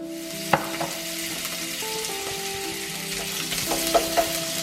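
Food sizzles and fries in a wok while cooking rice for Hainanese chicken rice, a continuous crackle with occasional metallic clinks and scrapes, close and fairly loud, no talking.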